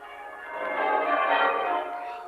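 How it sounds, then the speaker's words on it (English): Town church bells pealing on a bright morning, heard as a radio drama sound effect: a dense, ringing wash of overlapping bell tones that swells and then fades, with no voices. "the bells of the town pealing out there beyond his window"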